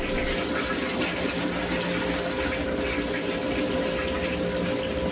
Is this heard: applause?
no